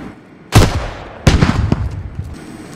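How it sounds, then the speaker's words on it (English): Gunfire in the Anti-Tank Squad video game: two loud, close bursts about a second apart, the second trailing into a rattling run of shots, with quiet gaps before and after. "I'm just gonna shoot him so he can turn his gun."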